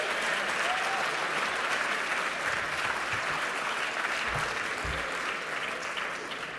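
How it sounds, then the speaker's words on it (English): Loud, steady applause from a convening audience for Boston's Mayor Martin J. Walsh, a thick continuous wash of clapping that holds strong throughout and eases slightly at the end. "I know you were just clapping, but let's hear it again for Boston's Mayor Martin J."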